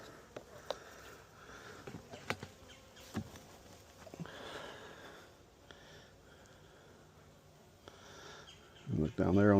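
Honey bees buzz faintly at a beehive while a beekeeper feeds the colony, a soft hum under scattered knocks and rustling handling noises, ending in a louder burst of nearby clatter.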